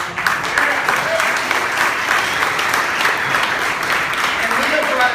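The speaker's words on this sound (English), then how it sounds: "We have a round of applause." A crowd at a panel discussion about Republicans gives a round of applause: continuous, fairly loud clapping from many hands, steady and even for the full few seconds.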